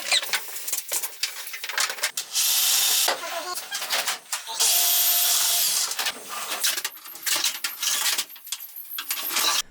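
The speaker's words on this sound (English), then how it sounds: "I drilled all the holes for the wiring for both the AC and DC circuits." Power drill boring wiring holes through a camper trailer build, heard as several sustained high-pitched whirring bursts of a few seconds each, broken by short pauses, clicks and handling clatter.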